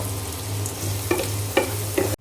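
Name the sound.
onions and spices frying in oil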